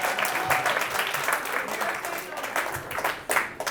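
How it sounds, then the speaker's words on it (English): Audience at a comedy show clapping their hands together, dense steady applause throughout with a few brief voices and shouts mixed in. "If you can hear me, clap your hands."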